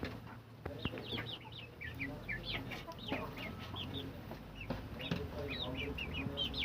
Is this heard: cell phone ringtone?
no